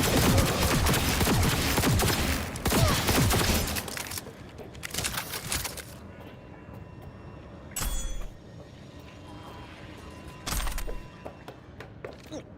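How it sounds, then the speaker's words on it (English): Cyberpunk 2077 gunfire in a dense burst of rapid shots for about four seconds, then scattered single loud reports over a quieter background. "Opening fire!"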